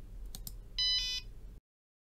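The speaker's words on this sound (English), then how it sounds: "So we should get a beep, beep, beep." A buzzer wired to a Raspberry Pi Pico gives one short, loud electronic tone lasting under half a second. A couple of faint clicks come just before it, and then the sound cuts off abruptly.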